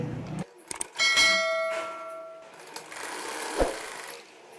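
A sewing machine stitches a fabric face mask at home, a short mechanical whir with a ringing metallic tone followed by softer running noise and a single knock, close up with no speech.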